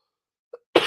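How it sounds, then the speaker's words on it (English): A single short cough, close and clear, preceded by a faint throat sound against silence. "Sorry about all the coughing and stuff."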